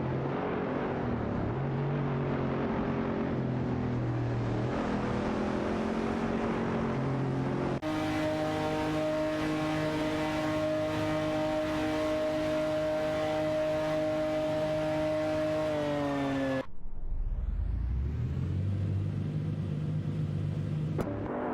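Race cars roar through a video game race, including a Chevrolet Camaro SS and a Lamborghini Diablo VT, with steady loud engine drone that shifts pitch abruptly as the view changes, no talk.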